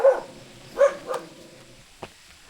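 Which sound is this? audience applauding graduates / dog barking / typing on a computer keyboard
dog barking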